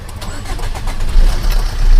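A Suzuki Dzire car engine cranks and catches close by, a brief rough burst of starting noise building into a louder running rumble.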